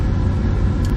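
A truck fitted with its stock downpipe rumbles along in a steady, loud engine drone heard from inside the cab, with no talking.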